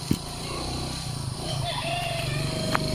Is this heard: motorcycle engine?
yes